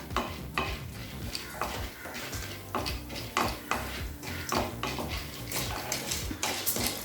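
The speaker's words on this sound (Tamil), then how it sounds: "கடலைப்பருப்பை நல்ல கலர் மாறுற வரைக்கும் வறுத்துக்கலாம்." Chana dal roasts in a little oil in a kadai with a soft continuous sizzle, while a spoon repeatedly scrapes and taps the pan to stir it. The sound is steady, close and moderate in level, with no talking.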